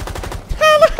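Rapid light machine gun fire in the tactical shooter Rainbow Six Siege, a dense stuttering burst of close, loud shots in rhythmic succession, then a sharper ringing report near the end.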